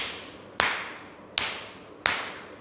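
Three sharp hand taps on the wrist as part of a hand exercise, evenly spaced about three-quarters of a second apart, each a crisp close slap with a short decaying tail, with no talking.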